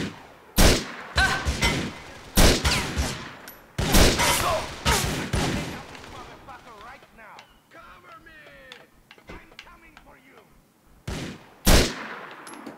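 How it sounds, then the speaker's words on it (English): Shotgun blasts from Grand Theft Auto IV gunplay, a run of loud, sharp close reports in quick clusters, followed by quieter scattered shots and clatter, then one more heavy blast near the end. "trying to shoot me with a shotgun"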